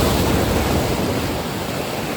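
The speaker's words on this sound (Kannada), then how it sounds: "ಕಾಲ ಹತ್ರ ಬಂದು ಹೊಡೆದು ಹೋಗ್ತಾ ಇದೆ ನೀರು" Sea waves wash up around someone's feet on the shore at St Mary's Island, Malpe, making a steady, close, full-bodied rush of surf and water with no pause or talk.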